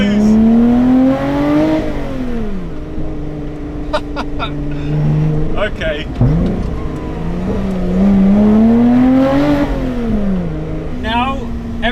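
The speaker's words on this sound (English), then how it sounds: "I can't believe the sound." Lotus Exige 380 Cup V6 engine revving hard, pitch climbing and falling across repeated throttle blips, loud and close with a person speaking briefly over it.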